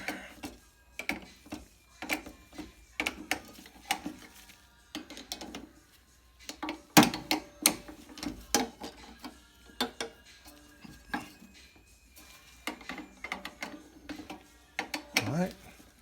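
Ratchet tightening the e-brake cable on a Toyota MR2 SW20, with bursts of close clicking spread unevenly through the stretch, a voice speaking now and then between them.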